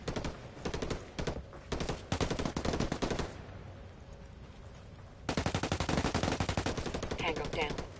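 Heavy automatic gunfire from a Ghost Recon Wildlands firefight, loud rapid bursts of machine-gun fire with dense volleys, a brief lull midway, then renewed sustained shooting.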